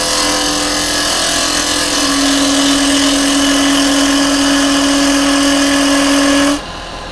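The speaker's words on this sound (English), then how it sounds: "I'm just going to use a square carbide" A wood lathe spins a yew blank while a square carbide tool cuts a tenon, producing a loud, steady whirring hum with a sustained tonal whine that stops abruptly near the end.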